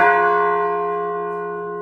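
A single carillon bell stroke at the Hoshiv monastery in Ukraine, loud and near, with rich sustained ringing tones that decay slowly.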